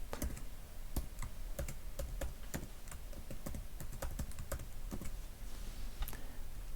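Fingers type a username and password on a computer keyboard, a quick, steady stream of close, crisp key clicks with a brief pause near the end.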